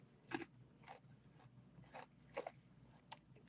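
Several crisp, crunchy bites into a fried croissant-like pastry at close range, spaced irregularly with quiet chewing in between and no talking.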